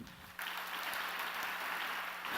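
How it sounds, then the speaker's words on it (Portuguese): A church congregation breaks into applause during a priest's sermon, starting suddenly after a brief pause and continuing as a steady, fairly faint wash of clapping. "Pode aplaudir isso."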